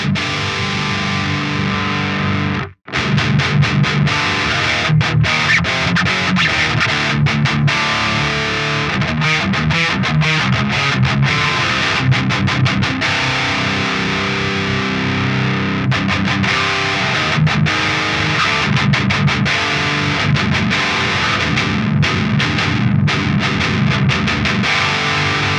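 Heavily distorted electric guitar run through a Fortin Big Chugs pedal with the lower mids turned up, playing loud, dense, continuous riffs with one brief dropout near the start and no talking.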